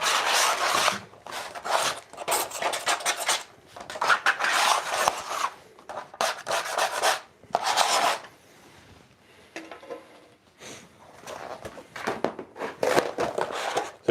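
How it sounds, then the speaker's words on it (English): A scraper removing excess glue from skateboard deck separators in a workshop, rasping in repeated bursts of strokes with short pauses between, close and fairly loud. "I'm just removing the excess glue from the separators"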